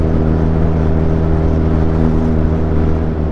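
A Kawasaki inline-four superbike engine idling and revving nearby, a loud steady hum with strong layered engine tones and slight swells in pitch, heard alone without speech.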